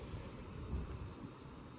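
Class 350 electric multiple units at Lichfield Trent Valley station, heard as a steady low rumble and rolling hum of train movement. No speech.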